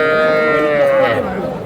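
A bull calf at a livestock market in Madaripur lets out a loud, drawn-out moo lasting over a second, close by, with the bustle of other people and animals around it.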